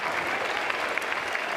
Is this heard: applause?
yes